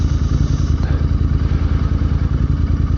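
Loud, rhythmic engine pulse of a Royal Enfield INT650 on a freezing ride to work, steady close thumping with road and wind noise beneath.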